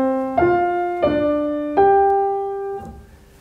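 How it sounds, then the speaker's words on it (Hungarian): Two violins play the same short motif in unison from Bartók's String Quartet No. 3: four clear, sustained bowed notes in sequence, the last one held and slowly dying away. "A két hegedű ugyanazt játssza,"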